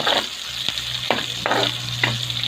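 Onions and squid sizzle and fry in a pan for Bicol express, a steady loud crackle with a few sharp stirring scrapes cutting through at intervals.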